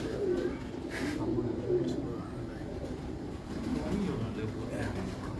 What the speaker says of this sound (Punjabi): ਬਹੁਤ ਬੇਮਿਸਾਲ ਸਲਾਰਾ ਕਬੂਤਰ ਹੈ